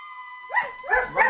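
Husky sled dogs in a cartoon give a few quick yapping barks in a short burst, close and fairly loud over a steady background tone.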